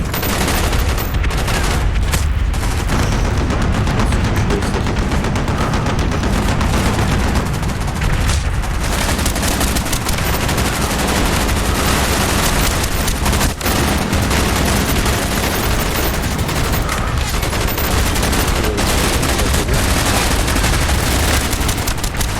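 Rocket and bomb blasts crash amid continuous gunfire in a video game, a loud dense barrage of shots and booms for the whole stretch.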